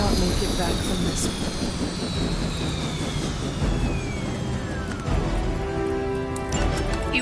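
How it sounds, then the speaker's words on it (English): Helicopter in the video game Marvel Midnight Suns, a loud continuous aircraft roar with descending whine and crashing impacts, mixed with game sound effects and music throughout. "You've grounded the helicopter."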